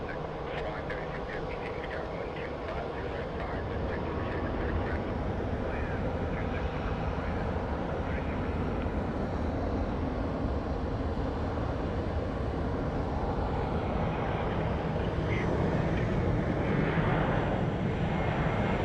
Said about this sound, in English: this plane is about to push out